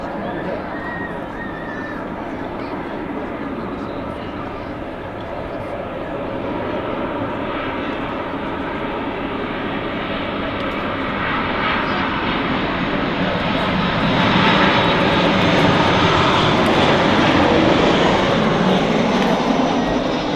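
A Ryanair Boeing 737 airliner roars at Manchester Airport, its broad jet rumble building steadily and swelling louder toward the end, with people talking over it.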